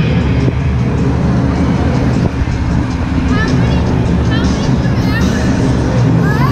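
The Gunslinger monster truck roars loudly during a two-wheel competition at a Monster Jam stadium show at MetLife Stadium, its engine mixed with a cheering crowd's babble.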